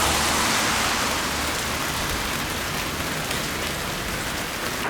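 Steady heavy rain falls during a long-distance bicycle tour along the Drava river, a dense even hiss of drops on surfaces that stays loud and close throughout, with no voices.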